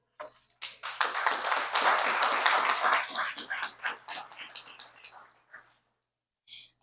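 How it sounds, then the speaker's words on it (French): Audience applause at an intergenerational dialogue event, a burst of clapping that swells and then tapers off into scattered claps, with some talk underneath and a brief clap at the end. "On nous applaudit plus fort"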